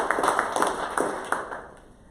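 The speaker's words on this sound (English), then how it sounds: "let's have one more round of applause for all the draftees today" A crowd at a draft day event at Noble Texas Builders applauds the draftees. Bursts of hand clapping come close together, then thin out and fade over about two seconds.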